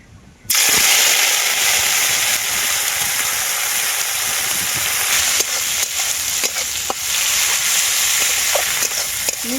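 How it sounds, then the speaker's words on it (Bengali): Tender neem leaves fry in hot oil with a steady, loud, close sizzle from start to finish, broken by light stirring scrapes and small pops. "তো নিম পাতাগুলো এখন ভেজে নেবো"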